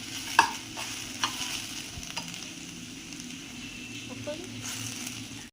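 Cashews and raisins frying in ghee, with grated radish nearby, give a soft continuous sizzle in a pan, joined by a few light scrapes and taps of a spoon, fairly faint and steady throughout.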